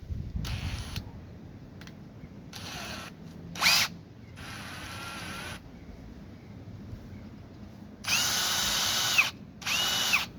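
Several short bursts of a power drill whirring up and stopping, with pauses between, close and loud.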